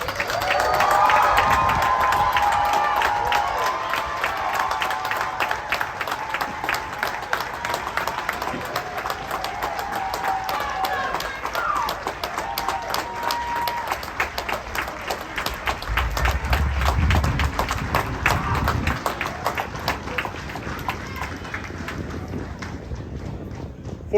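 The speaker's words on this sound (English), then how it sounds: "Let's give them a warm round of applause." Audience applause at a Universal Technical Institute graduation ceremony for the September 2022 class; sustained, dense clapping fills the hall for over twenty seconds, steady and fairly loud with occasional cheers.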